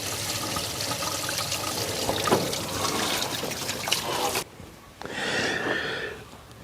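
Water trickles and splashes steadily from a disconnected heater hose being flushed on a Toyota Troopy, a continuous wet rush that cuts off abruptly, then resumes more softly.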